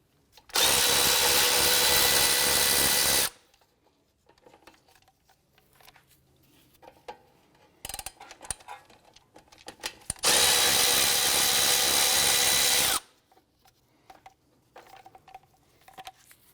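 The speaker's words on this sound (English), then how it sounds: "We're going to remove these two 10mm bolts right here on the side of the knuckle." Two long, loud bursts of a power tool zipping out 10mm bolts from the side of an Acura TL steering knuckle, separated by quieter clinks and shop noise.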